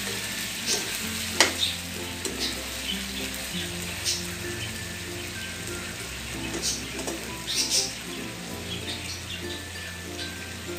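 Adobo simmering in Sprite in a pan gives off a steady close sizzle with scattered bubbling pops throughout, over soft background music.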